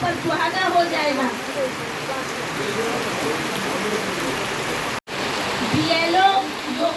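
Heavy rain pours steadily outside during a political party meeting, a dense hiss running throughout, with a person talking over it.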